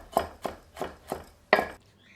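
Garlic cloves chopped finely with a knife on a board: five crisp, evenly spaced chops close up, the last one hardest, then quiet.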